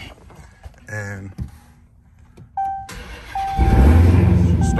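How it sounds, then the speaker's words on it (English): A Mopar car cranks and its engine catches near the end, rumbling louder after an electronic chime tone and some earlier talking and handling noises. "start your car like normal"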